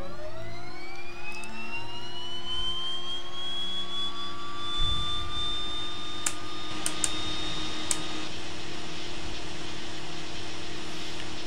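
Turboprop engine start in a flight simulator game, a steady whine climbing in pitch as the turbine spools up, then holding at a loud continuous drone with faint clicks over it.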